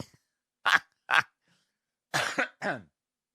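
Four harsh coughs in two pairs, close and loud, with short pauses between them and no talking.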